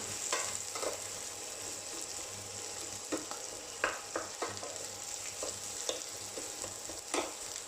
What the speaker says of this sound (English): you're gonna now try to press the shrimp's heads and skin in the coriander